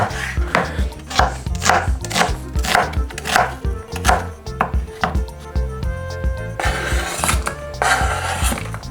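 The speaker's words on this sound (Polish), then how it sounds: "teraz koperek przesiekamy razem ze szczypiorkiem" Rapid, steady knife chopping of dill and chives on a board, dozens of quick rhythmic strikes close up, with a brief pause and a faster burst near the end.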